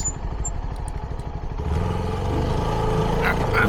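A CFMoto 300NK motorcycle on its stock exhaust idles with a low, steady engine burble, then the pitch and volume rise as it pulls away, with some wind and clatter mixed in.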